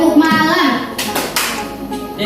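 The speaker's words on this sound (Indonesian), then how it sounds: "Tepuk malam." A class claps the 'tepuk malam' rhythmic pattern in unison, a few sharp, close claps after a short spoken prompt, with a brief pause between bursts.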